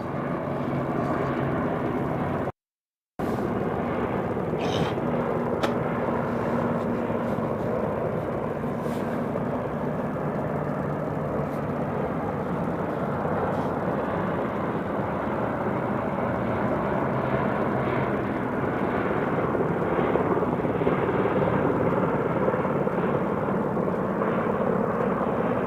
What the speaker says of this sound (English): Can't hear a fucking thing because of 100 helicopters above me.